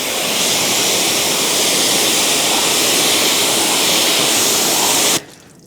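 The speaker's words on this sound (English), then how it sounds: "And now let's rinse right away." A strong, continuous hiss of water spray rinsing shampoo off a car, loud and close, holding steady for about five seconds before cutting off abruptly into quiet.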